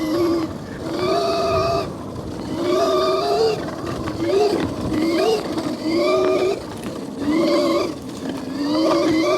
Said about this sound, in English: Just every little bit of the throttle, get some air on these little bumps